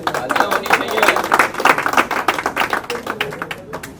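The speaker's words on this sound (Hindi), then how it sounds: "उनके लिए तालियां होनी चाहिए।" An office audience claps at a retirement farewell on a last day in office, a dense burst of close applause that fades toward the end.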